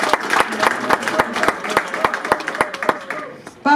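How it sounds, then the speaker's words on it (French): A conference hall audience applauds, dense overlapping hand claps with a few louder sharp claps standing out, steady and fairly close, with voices mixed in and a brief louder sound at the end. "M. Félix Tshisekedi Antoine Tshilombo, que nous pouvons applaudir s'il vous plaît dans toute la salle"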